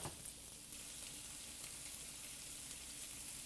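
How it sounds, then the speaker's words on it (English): Shrimp sauteing briefly in melted butter with garlic in a pan, giving a steady, close, even sizzle and crackle throughout with no talking. "Gonna saute our shrimp briefly"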